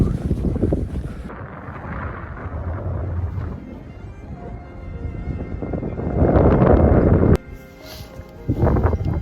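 Strong wind buffets the microphone on the summit of Mont Blanc, roaring in loud gusts that swell and drop, with a sharp burst near the end.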